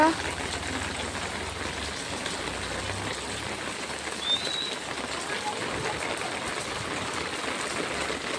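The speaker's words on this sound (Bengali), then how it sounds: "খুব বৃষ্টি হচ্ছে।" Heavy rain pours down in a constant dense patter and hiss on surfaces nearby, steady throughout with no pauses.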